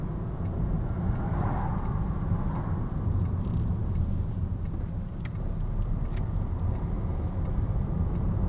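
A car's left turn indicator ticks steadily while approaching a roundabout to take the first exit, faint and regular over the constant low rumble of the engine and road noise inside the cabin.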